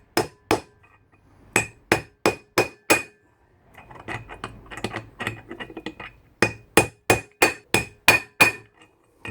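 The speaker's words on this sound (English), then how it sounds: "You can hear the hammer tone change as the old one sets in." Sharp metallic hammer blows tapping a wheel bearing race into the hub of a Mk3 Volkswagen Golf, a run of five, then a pause filled with softer clatter and scraping, then another steady run of ringing strikes.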